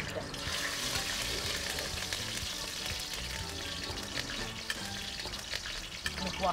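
Onions dropped into hot oil spiced with cinnamon, clove, garlic and ginger, frying in a loud, steady sizzle with occasional stirring scrapes throughout.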